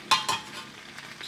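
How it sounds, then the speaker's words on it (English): Tea stirred in a cup from a Russian IRP-W winter ration with condensed milk added, a spoon scraping and clinking against the sides in a few short strokes, close and fairly quiet, with no talking. "Stir the tea."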